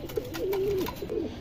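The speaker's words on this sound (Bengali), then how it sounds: "যারা বড় সাইজের কালদম কবুতর খুঁজুন তারা নিতে পারেন এই প্যাডটা" A large Kaldom pigeon gives a close, drawn-out coo followed by a shorter second coo, clear against a quiet room hum.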